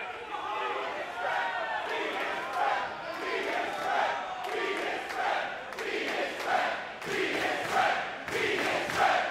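A professional wrestling crowd in Pittsburgh roars steadily throughout, a dense wash of cheering and shouting with swelling surges, while a commentator's voice runs underneath.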